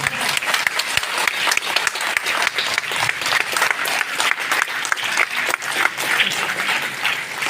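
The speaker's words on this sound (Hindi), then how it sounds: "क्लब के इस महान कार्य के लिए गगनभेदी गड़गड़ाहट तालियों से अभिवादन बनता है।" A large audience at a Samvidhan Diwas (Constitution Day) program claps loudly and steadily, dense continuous applause with no voices heard.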